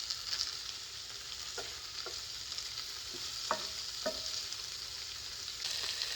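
Beef stew meat frying in a pan with elephant garlic, a faint steady sizzle with a few soft clicks and scrapes as the meat is turned.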